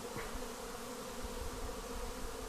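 Honeybee swarm clustered around a hive gives off a dense, steady humming drone of many wings, loud and continuous throughout, with no talk.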